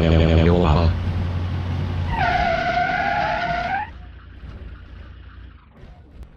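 A car in the BeamNG Drive video game approaches with a loud engine and a squealing skid, its tires screeching for about two seconds before the sound fades. Someone talks over it.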